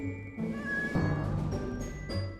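A cat meows several times in a row, close and fairly quiet, with short bright cries separated by brief pauses.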